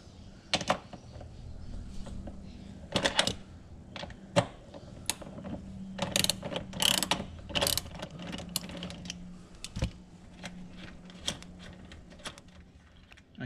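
Ratchet wrench with a 15mm socket loosening bolts on a Mitsubishi Evo X, sharp rapid clicking bursts repeating close by with brief pauses between turns and no talk.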